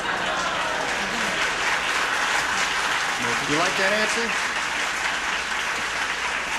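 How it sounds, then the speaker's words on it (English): A TV game show studio audience bursts into sustained applause with scattered cheers, filling the room while a voice speaks briefly over the clapping. "All the streakers in the audience are applauding"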